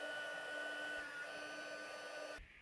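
A craft heat tool melting copper embossing powder, blowing a steady whirring hum close to the microphone that cuts off abruptly near the end.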